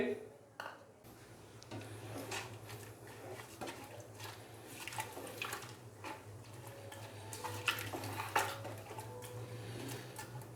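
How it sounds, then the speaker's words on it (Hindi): Irregular scraping and soft clicking of a spoon stirring beef and spices, including turmeric, in a pot for karahi gosht, close by, continuing steadily over a low background hum. "अभी अच्छे से इसको मिक्स करेंगे।"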